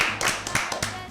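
Applause for a contestant on an Easter Bible quiz show: a short, close burst of clapping from a small group, individual hand claps audible in quick irregular succession.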